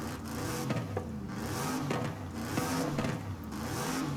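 An Aston Martin DBS with a 6.5-liter naturally aspirated V12 revs in Forza Horizon 5, its engine note surging and falling in repeated close, loud blips with no talking.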